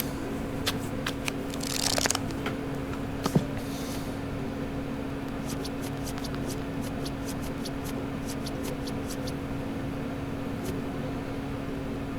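Playing cards shuffled and dealt in the video game Black Book, a riffle burst followed by a series of crisp, evenly spaced card snaps over a steady low hum.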